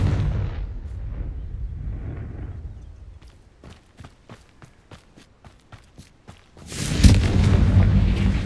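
A Confringo blasting spell cast in Hogwarts Legacy ends in a loud burst at the end, following a run of rhythmic crisp impacts or footsteps over low rumbling ambience.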